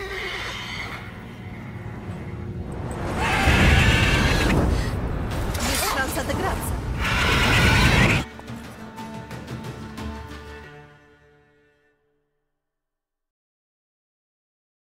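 Horse neighs in the video game The Witcher 3, loud whinnying and snorting bursts over a busy game soundscape, with a voice speaking, before fading into silence.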